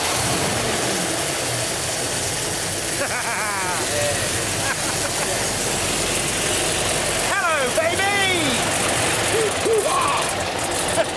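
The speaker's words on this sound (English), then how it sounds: "The mighty Meteor engine has roared and the tank is beginning to come alive." A 1949 Centurion tank's big Meteor engine rumbles steadily throughout, with excited voices and shouts rising over it.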